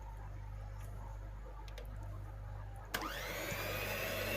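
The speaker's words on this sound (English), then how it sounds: "I'm now going to use my stick blender to finish it." A stick blender whirs through homemade turmeric butter, a steady motor hum that jumps to a louder, strained whine as the blade bites into the thick mixture partway through.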